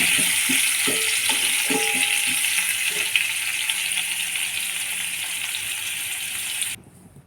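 Food being stirred in a hot frying pan after saffron-coloured food colouring is added: a steady close sizzling hiss with a few scraping clinks of the spoon early on, cutting off abruptly near the end.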